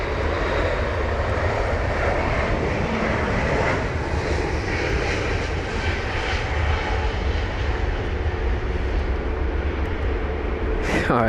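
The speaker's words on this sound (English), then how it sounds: "we've got the BA380 to watch" British Airways Airbus A380 at London Heathrow on a wet day, a loud continuous jet engine roar with spray noise that holds steady close by throughout.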